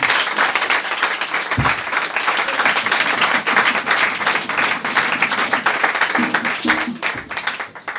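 A church congregation applauding, a steady, dense wash of many hands clapping from a crowd, filling the space continuously, with a few low voices or cries rising briefly near the end.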